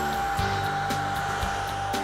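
A hair dryer on low heat blows a steady, loud, close whoosh over flat clear coat on a Broadway Limited NYC J-1e Hudson steam locomotive model, with faint clicks of the model being handled.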